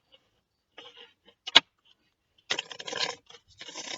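A Mystic Dreamers tarot deck is shuffled up close and quiet, with soft scratchy card riffles in short bursts, one sharp snap, then a longer rustling shuffle.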